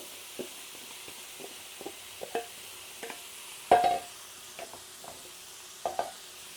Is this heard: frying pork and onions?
yes